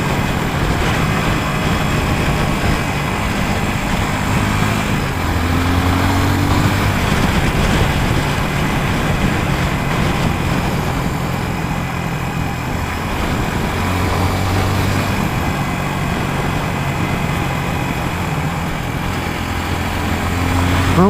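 A Suzuki DR250 motorcycle engine while riding, a continuous droning hum with steady low harmonics and slight pitch shifts as revs rise and fall, heard close from the bike under wind rush.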